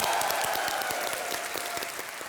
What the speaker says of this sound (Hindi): एक बार जोरदार तालियां हो जाए हमारे बीसीएल के लिए।